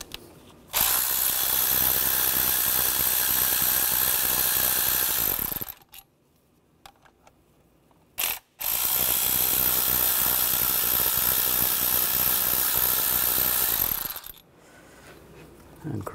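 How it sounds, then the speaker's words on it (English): A ratchet or power tool with a T30 socket backs out cover screws on a 2011-2015 Chevy Cruze engine, giving two long, loud, buzzing bursts separated by a short quiet gap. "Take these two screws out,"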